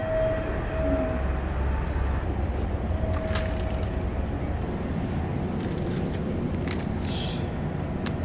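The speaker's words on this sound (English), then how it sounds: "the train we're taking is the Rapid Marine Liner number 18923 to Okayama, platform 5" Rapid Marine Liner train standing at a Japanese station platform, a steady rumbling idle with faint tones and scattered clanks, no talking.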